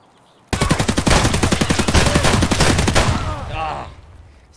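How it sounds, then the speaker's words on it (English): Semi-automatic shotgun fire in a video game: a fast, loud, steady run of about two dozen heavy blasts that lasts close to three seconds, then tails off into quiet. "Semi-automatic shotgun."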